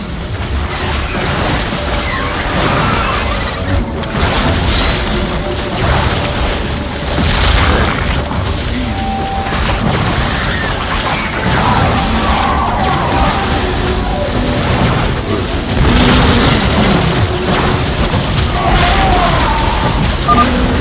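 In a StarCraft II battle, Nydus worms are destroyed amid loud, continuous booms and explosive blasts that rumble almost without pause for about twenty seconds.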